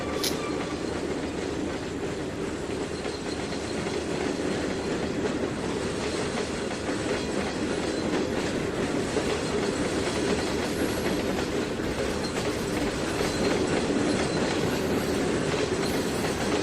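A video game train (Trainz 2019) rumbles steadily along the rails, a continuous loud roar with faint clickety-clack and occasional wheel squeal, no voices.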